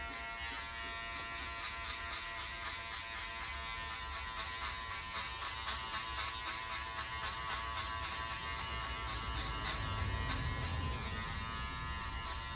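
An electric hair clipper buzzes continuously while cutting hair during a barber's haircut, a steady close whine with faint rhythmic pulsing, heard alone and fairly quiet.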